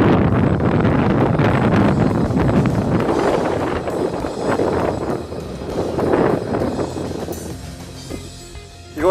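Wind buffets the microphone in heavy, broadband gusts in the mountains, loud at first and then easing toward the end.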